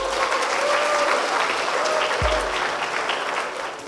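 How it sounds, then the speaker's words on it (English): Sustained applause from an audience at a debate championship grand finale and awards ceremony, steady and fairly loud throughout, with a faint musical tone running beneath it and no voices. "Can we please once again give them a round of applause?"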